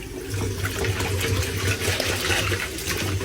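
Running water rinses pork hock for paksiw na pata, washing away foam, blood and fat, a steady close splashing and pouring with no talk.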